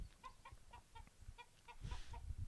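Chickens cluck in a quick, uneven series of short, bright calls, with several birds close by, a steady low background rumble underneath, and no voices.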